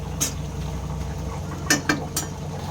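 Prawn-head spinach with sugar is stirred in a pan, a few light scrapes and clinks of the spoon against the metal over a low, steady cooking hiss, with no voices.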